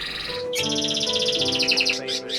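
Pet budgies in an aviary chirping rapidly and close by, a bright twittering chatter of several birds that starts after a short pause and runs almost continuously to the end.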